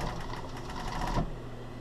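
Serger sewing machine stitching skirt fabric, a steady close motor whir with rapid needle chatter running throughout, easing slightly toward the end.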